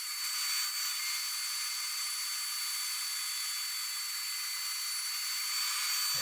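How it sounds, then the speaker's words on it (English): A bandsaw cuts freehand through a piece of wood, giving a steady, even hiss that runs unbroken for several seconds and then stops. "I cut that slope freehand with the bandsaw"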